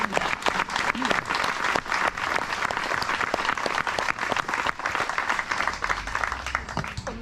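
Parkrun crowd at Wickford Memorial applauding and cheering volunteers, steady dense clapping with a few shouts, sustained and fairly loud throughout.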